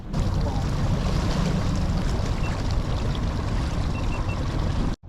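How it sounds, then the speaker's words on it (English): A Terrova trolling motor pushing a fishing boat against strong current, heard as a loud, steady rumble mixed with wind buffeting and water wash that runs continuously until a sudden cut at the end. "So you'll get to see how this trolling motor performs in pretty strong current."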